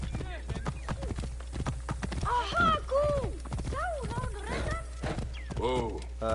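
Horse hooves clip-clop in Assassin's Creed Origins, a steady rhythmic patter under loud game sounds with harmonic calls and voices, a whinny-like cry near the end.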